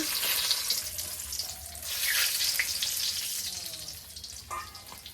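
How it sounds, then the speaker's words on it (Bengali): Cinnamon and cardamom hit a small amount of hot oil left over from frying potatoes, giving a steady, close crackling sizzle that swells in the middle and fades toward the end. "তো এই যে দারচিনি এলাচ ফোড়ন দিয়ে দিব"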